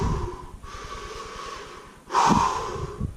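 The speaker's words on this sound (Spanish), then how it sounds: "esto sería hiperventilar." A person demonstrates hyperventilation, taking rapid, forceful breaths through the nose and mouth, with a long noisy exhale followed by a sharp, loud inhale, close to the microphone.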